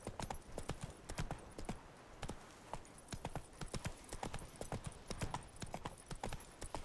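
Rapid hoofbeats from a horse in The Witcher 3 clip-clop steadily and close, a galloping rhythm of sharp knocks that runs the whole way through with no voices.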